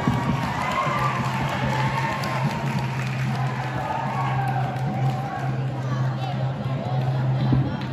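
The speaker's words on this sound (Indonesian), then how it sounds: "Tepuk tangan." Crowd cheering and shouting at a school anniversary futsal match kick-off, a steady dense roar of voices with some clapping, loud and continuous throughout.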